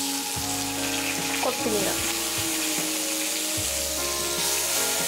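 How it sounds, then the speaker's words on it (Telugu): Seeds, spices and herbs tempering in hot oil in a pan for curd rice give a continuous, close sizzle with occasional stirring, and a voice speaks briefly over it. "వీటన్నిటిని చక్కగా వేయించుకోవాలి."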